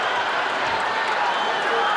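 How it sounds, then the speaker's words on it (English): A dense, steady roar from a packed UFC arena crowd during a John Jones fight at UFC 197, a continuous wash of noise with no gaps across the whole stretch. "You can hear the crowd react."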